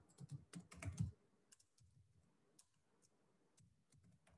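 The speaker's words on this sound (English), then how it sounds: "I'm just typing her number" Quiet typing on a computer keyboard during an online class session, with irregular clusters of soft key clicks and a few isolated taps, close by and alone without talk.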